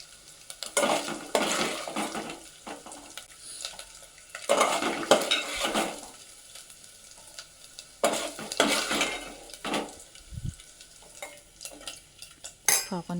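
Tomatoes frying in a home kitchen pan, heard as repeated bursts of a spoon stirring and scraping against the metal over a soft sizzle, with quiet pauses between.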